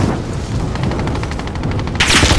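Rapid bursts of light machine gun fire in Call of Duty: Modern Warfare, a fast even rattle of closely spaced shots, loud and near, ending in a sharper blast.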